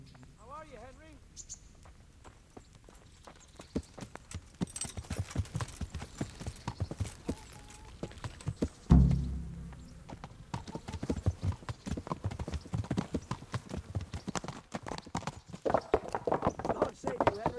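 A horse is ridden in Kingdom Come Deliverance, its hooves clip-clopping in a steady rhythmic gait at close range, with a brief neigh and occasional voices speaking over the hoofbeats.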